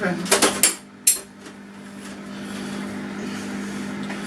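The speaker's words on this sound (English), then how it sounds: "I'm just about to dish some up for my daughter" A spoon clinks and scrapes against a dish while homemade fish pie is served up, a few sharp metallic knocks early on, then a quieter stretch of soft kitchen noise and faint handling.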